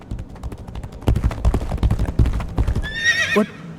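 In the video game Legacy of Kain: Ascendance, a horse gallops with a rapid, close drumming of hooves, then lets out a shrill neigh at the end.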